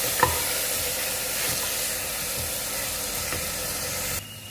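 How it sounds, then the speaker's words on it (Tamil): Ginger garlic paste sizzles steadily in hot oil for a mushroom kulambu, a continuous close hiss with a few soft spoon scrapes and taps, no voices. "இப்போ வந்து நம்ம இஞ்சி பூண்டு பேஸ்ட் இதில் ஆட் பண்ணிக்கலாம். இதையும் நல்லா நம்ம வதக்கி எடுத்துக்கலாம்."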